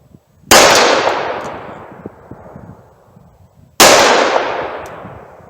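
Two loud .357 Magnum revolver shots fired single action, one-handed, with Blazer target ammunition, each a sharp crack followed by a long fading echo, roughly three seconds apart, with no talking.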